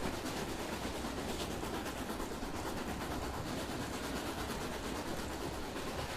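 A steam locomotive in Train Simulator 2020 chugs steadily on the Great North of Scotland route, a dense continuous rumble of engine and rail noise with faint rhythmic clatter, loud and close throughout.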